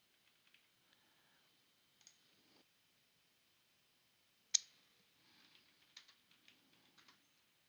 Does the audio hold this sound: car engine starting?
no